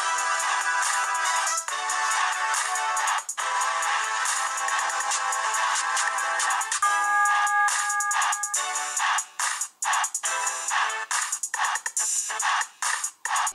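A loud electronic ringtone melody plays from the main loudspeaker of a HOMTOM HT6 smartphone, bright and continuous, with a brief pause and choppier notes near the end.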